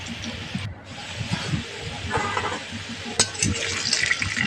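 Potatoes frying in a pan, a steady bubbling sizzle with occasional stirring scrapes and faint water-like noise, fairly close and continuous with no talk over it.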